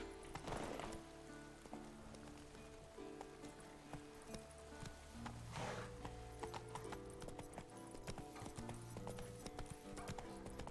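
Hooves clip-clop from a galloping horse in The Witcher 3 Wild Hunt, a quick rhythmic beat under game music, faint overall.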